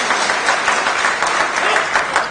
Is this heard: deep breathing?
no